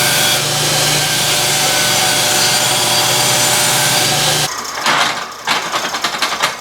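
Steel angle iron being cut to trim about a quarter inch off, a steady loud grinding-saw drone that stops abruptly partway, followed by shorter scraping bursts.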